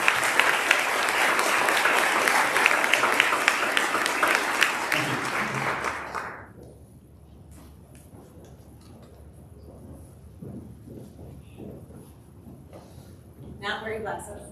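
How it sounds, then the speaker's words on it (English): Dense applause from an audience at the 2023 Celebration of Excellence awards fills the first six seconds, then stops abruptly, leaving a quiet room with faint scattered noises. "give another round of applause for all the announcements"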